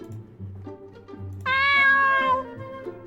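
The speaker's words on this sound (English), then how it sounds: "Do I have a cat sound in the game files?" A single drawn-out cat meow sound effect from the Chrono Gear hololive fangame rises clearly out of low background chatter, bright and close, lasting about a second.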